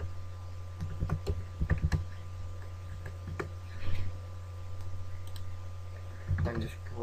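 Someone types on a computer keyboard in bursts of close, light clicks while working on a Photoshop CS5 banner, with pauses and a steady electrical hum underneath.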